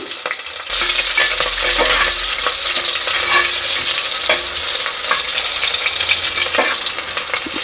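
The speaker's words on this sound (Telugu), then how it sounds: "ఇప్పుడు వీటిని కొంచెం ఫ్రై చేసుకుందాం" Onion, green chillies and curry leaves frying in a pan for pongal, a steady close sizzle with repeated scraping stirs of a spoon against the pan, no talk.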